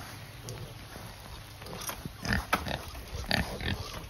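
Pigs and piglets coming out in the rain to feed on a farm, with soft grunts, snuffling and chewing near and fairly faint over a light wet background.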